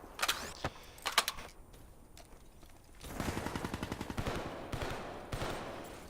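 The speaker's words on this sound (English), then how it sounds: "I'm getting shot at from L wall." Gunfire in a first-person shooter video game: a few sharp single shots at first, then a fast rattling burst of automatic fire, with scattered mechanical clicks, moderately faint and with no talk.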